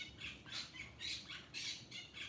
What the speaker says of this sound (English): You hear the crazy bird over there in the background going crazy again.